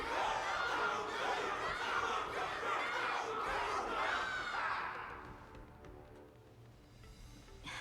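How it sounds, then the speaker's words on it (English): A crowd cheers and shouts together in the video game Honkai Star Rail, a loud, dense roar of voices that fades to a quieter murmur after about five seconds. "Everyone's cheering for you, Luka."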